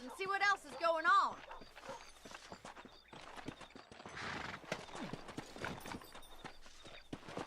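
Steady clip-clop of horse hooves in the video game Red Dead Redemption, with a brief whinny at the start, voices talking over much of it.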